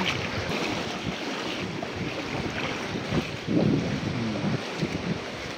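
Ocean waves wash steadily under gusty wind noise, a continuous broad rush with a slightly louder surge partway through.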